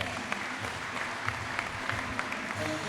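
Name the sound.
congregation applauding in church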